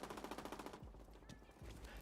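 Rapid automatic gunfire in The Division 2, a quick regular burst of shots that stops partway through, followed by a few dull low thumps, all faint.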